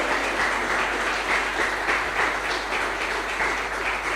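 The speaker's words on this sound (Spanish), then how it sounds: "Dale un fuerte aplauso al Señor." A church congregation applauds steadily, a dense, continuous wash of clapping that holds at an even level throughout.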